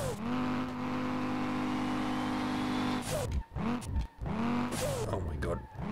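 In the SLRR racing game a car engine holds a loud, sustained high rev while drifting, then cuts and surges in repeated bursts with tire squeal, as a voice talks over it.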